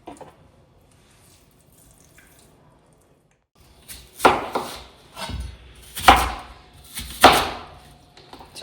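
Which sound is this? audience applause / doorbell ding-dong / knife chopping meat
knife chopping meat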